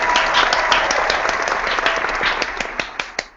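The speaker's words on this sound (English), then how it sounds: "let's give a round of applause for EMMACHU." A small group claps in applause for a birthday celebration, a brisk close flurry of hands that thins toward the end into a few last separate claps.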